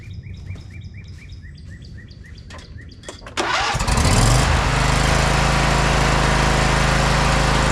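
A lawn mower engine, just repaired with a replacement bolt, cranks and catches, then settles into a loud, steady idle close by, while birds chirp in the background before it fires.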